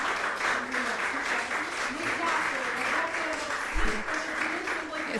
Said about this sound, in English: All the applause is for you.